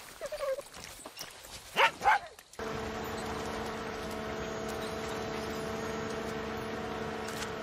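Dog in Far Cry 6 on PC: a few short, faint barks and whimpers at the start, then a steady droning hum for the rest.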